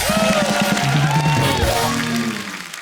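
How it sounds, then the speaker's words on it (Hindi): A studio audience at a celebrity show cheers and whoops, with loud crowd yells and shouts over clapping that fade slightly toward the end. "एक बार फरहान और प्रियंका के लिए जोरदार तालियां।"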